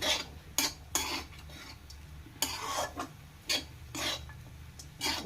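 Spoon scraping and clinking against a pan while puffed rice upma is mixed, a series of short, irregular metallic strokes close up with quiet gaps between them.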